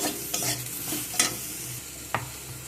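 A spoon stirs radish, eggplant and turmeric powder in a pan with a soft sizzle underneath. Several distinct scraping strokes and clinks come at an uneven pace, close by.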